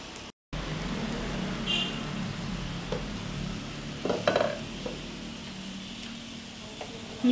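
Vada dosa batter fries in a covered pan over a medium flame, a continuous close sizzle with a brief silent gap near the start and a few light clinks of a utensil against the pan.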